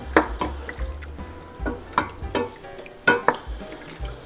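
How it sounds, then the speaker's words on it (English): A spoon scrapes caramelized onion off the bottom of a pot into beef broth for a roasted sweet potato, garlic and cauliflower soup, giving several sharp, close scrapes and clanks over a soft simmer. "Get some of the nice caramelization off the bottom from the onions."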